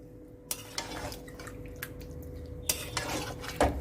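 Chicken with spices stirred in a pan while cooking chicken maharani, with soft scraping and a few sharp taps of a utensil against the pan, close and quiet.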